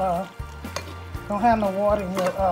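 Homemade Southern macaroni and cheese is stirred in a pot, with close, uneven scraping and sticky sloshing strokes and a soft sizzle in short bursts.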